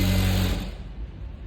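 A sewing machine runs briefly as it stitches a sleeve, a loud close mechanical whir that cuts off after about half a second, leaving quiet room noise.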